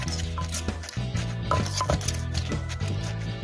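A pestle pounds chili paste made with lizard in a mortar, repeated dull knocking thuds in an irregular rhythm with light clattering, close and fairly loud, with music playing underneath.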